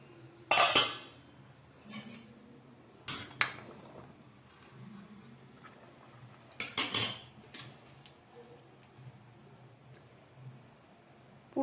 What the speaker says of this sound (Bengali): চলুন এবার ঢাকাটা খুলে দেখি কতটা সিদ্ধ হয়েছে।